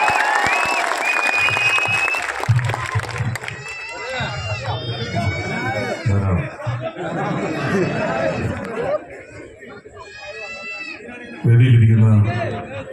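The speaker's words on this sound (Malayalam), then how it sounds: "വടകരയുടെ കരുത്തുള്ള ഒരു കയ്യടിയോടെ പിഷാരടിയെ നമുക്ക് ഒരിക്കൽ കൂടി വേദിയിലേക്ക് സ്വാഗതം ചെയ്യാം" Applause and crowd chatter swell from an audience in Vadakara as comedian Pisharody is welcomed back onto the stage, with a voice on a loudspeaker carrying over the clapping and hubbub throughout.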